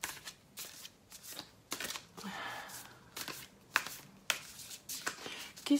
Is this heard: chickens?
no